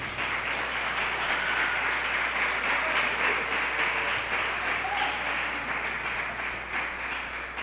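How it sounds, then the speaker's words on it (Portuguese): Church congregation applauding steadily and without a break, a dense, even wash of clapping that holds level from start to finish with no voices on top. "Dê um aplauso a ele."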